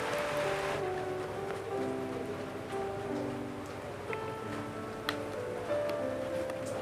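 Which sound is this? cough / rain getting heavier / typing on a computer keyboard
rain getting heavier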